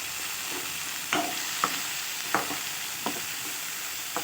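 A spoon stirs vegetables in a pan in several evenly spaced scraping strokes. They sit over a steady soft sizzle close by, and there is no speech.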